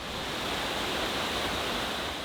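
Rocky river rushing beside a hiking trail in the Great Smoky Mountains, a steady, dense, broadband roar of flowing water with no breaks and no voices.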